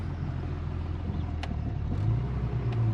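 A 1961 Mercedes 220Sb W111 rolls down a street, its engine a steady low rumble heard from inside the car, with road noise and a few faint clicks and rattles throughout.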